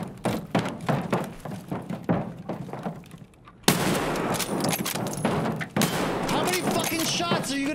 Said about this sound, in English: I'm shooting this dude with a fucking cannon